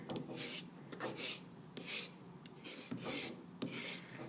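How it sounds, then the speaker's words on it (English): A rasp smooths carved plaster in a series of short, quiet scraping strokes with an even rhythm, heard close up with no talking. "What the rasp is doing is taking off all the rough edges, smoothing it down."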